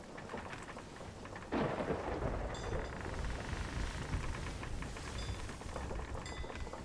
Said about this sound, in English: We're in a storm, so this is rocking all over the place.